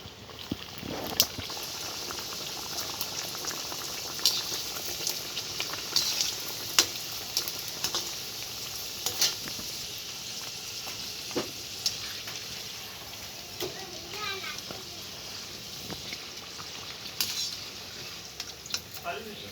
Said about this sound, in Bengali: এবার আমি মোগলাই পরোটাগুলো ভেজে নেব।